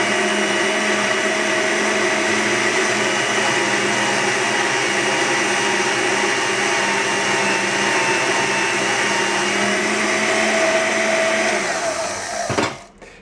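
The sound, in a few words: hand-held band saw converted to bench top cutting metal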